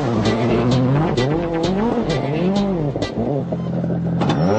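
Marcus Grönholm's rally car at the start of a World Rally Championship 2001 stage in the Alpine foothills, its engine loud and close, revving hard through repeated rising and falling gear changes with no talk.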